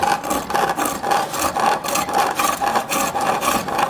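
Woodturning tool cutting wood on a lathe, a close, loud, steady rhythmic scraping and rasping that pulses about twice a second with no talking.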